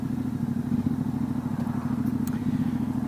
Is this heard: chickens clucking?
no